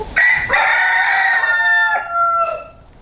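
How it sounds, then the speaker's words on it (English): A rooster crows loudly and close, one long drawn-out call with a rising start and a falling tail, alone without talk. "Roosters do crow. They crow in the morning,"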